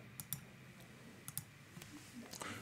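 Computer mouse clicking while navigating Facebook, with several sharp, quiet clicks in small clusters, close and isolated against faint background noise.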